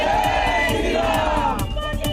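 A dense crowd outside a mosque shouts slogans in rhythmic unison at a political protest, the chant pulsing in regular beats. Loud and close, the voices run continuously over a rough roar.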